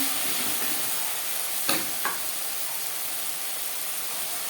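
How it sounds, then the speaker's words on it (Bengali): Chopped onion and tomato fry in a pan with a steady close sizzle, broken by a couple of quick clinks or stirring knocks. "এবার দিয়ে দেবো পেঁয়াজ কুচি আর টমেটো"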